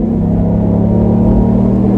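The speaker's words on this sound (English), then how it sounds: "I like the exhaust sound." A 2020 GMC Sierra Harley-Davidson pickup truck's exhaust revs with a deep, steady rumble, close and loud, sustained throughout with no talking.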